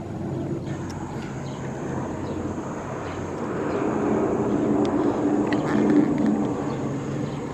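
A Trigana Air airplane comes in to land at an airport, its engine roar steady and moderately loud, swelling slightly toward the end, heard from the ground with no talk.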